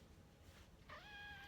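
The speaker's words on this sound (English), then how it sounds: "I'll let you say hi to my kitty." A pet cat gives one drawn-out meow while being picked up indoors, faint and fairly close, after a moment of quiet rustling.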